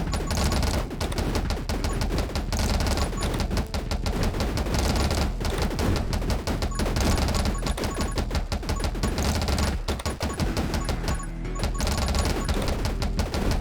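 A video game in which killed enemies burst into three bullets: rapid, steady popping and crackling shots that run densely through the clip, loud and continuous, over game music.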